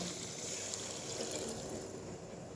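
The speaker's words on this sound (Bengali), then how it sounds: "এবার দিয়ে দিচ্ছি পরিমাণ মতো জল" Water is poured into a pan of prawn and elephant foot yam curry after the spices are fried, making a continuous soft splashing trickle close by, with nobody speaking.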